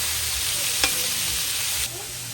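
Raw meat hits a pan of hot oil on a farm for a tininglag and chopsuey dinner, and a loud steady sizzle follows, with a brief bump as the pieces drop in and a slight drop in the hiss near the end.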